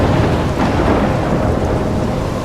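A loud, dense thunderstorm from the video game Life is Strange, with a steady roar of heavy rain and rumbling thunder filling the whole span.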